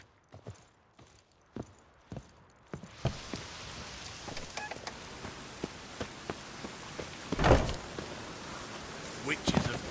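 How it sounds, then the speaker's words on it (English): Rain falls in The Witcher 3: Wild Hunt, a soft steady patter that thickens into a continuous hiss, with scattered clicks and knocks on top and one louder gust-like swell. "Witches have conjured rain again"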